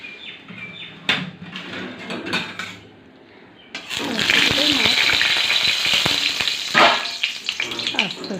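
Hilsa fish go into hot oil in a wok: quiet kitchen sounds with a clunk, then a sudden loud, steady sizzle that swells and crackles, with a brief sharp burst partway through.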